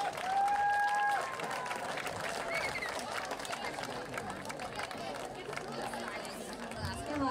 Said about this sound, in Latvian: Поаплодируйте своим родителям, если они очень за вас волнуются.